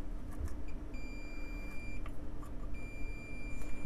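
Multimeter continuity beeper sounding on a shorted output transistor in an Accuphase P-300 amplifier: thin, steady high-pitched tones in two sustained bursts over a low electrical hum, with no talk.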